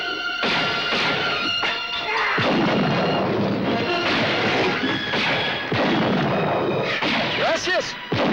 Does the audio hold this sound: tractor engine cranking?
no